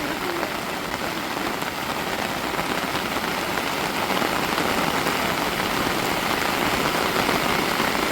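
Heavy rain pours down in a dense, unbroken hiss of drops hitting surfaces, loud and steady from start to finish.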